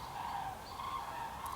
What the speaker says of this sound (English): Flock of migrating geese passing.